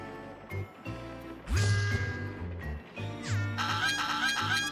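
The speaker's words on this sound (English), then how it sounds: "Furious bird noises." Game birds in CrossCode let out loud, agitated squawks and honking cries in several harsh bursts, rising and falling with short pauses between them, with no talking.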